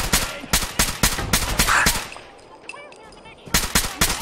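Rapid automatic gunfire in the Fallout 4 video game: a fast string of loud, close shots, then a short lull with faint clinks, then the burst resumes.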